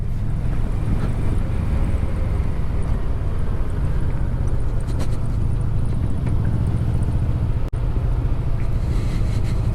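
Yamaha Vmax motorcycle engine running steadily downhill in fourth gear, a loud, continuous low rumble with heavy wind buffeting throughout and one brief dropout.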